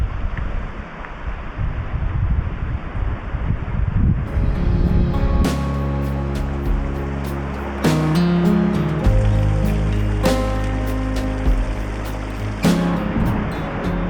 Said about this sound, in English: there's like a really loud thumping, rumbling noise. I think it's the waves against the rocks